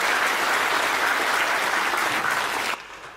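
Audience in an assembly hall applauding a performer on request, a dense, steady wash of clapping for about three seconds that drops off abruptly near the end.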